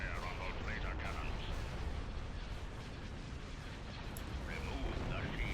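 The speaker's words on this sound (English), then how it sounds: "Open fire on those laser cannons." Laser cannons firing in a Star Wars: Empire at War mod battle, a dense, continuous roar of blasts and rumbling explosions with faint voices mixed in.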